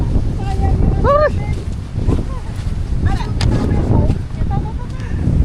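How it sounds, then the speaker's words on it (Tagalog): Strong cold gusts before a storm in Pandan, Antique, roaring steadily into the microphone as loud continuous buffeting, with people chatting underneath. "Ang sarap ng hangin, ang lamig, para nasa aircon"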